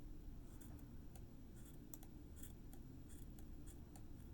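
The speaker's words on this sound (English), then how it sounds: "Now I'm going to trim this hair right over my lip, carefully with scissors" Small scissors trim stage makeup facial hair above the lip, giving faint, close, crisp snips spaced irregularly over a quiet background with no talking.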